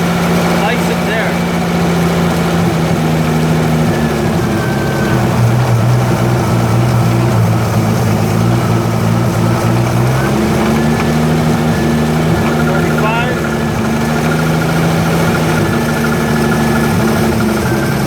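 A small engine runs steadily with its carburetor choke partly open, a loud continuous drone with a humming low tone that dips and rises in pitch as the choke is moved, and a voice talks over it.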